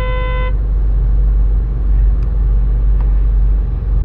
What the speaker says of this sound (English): Who's honking at me?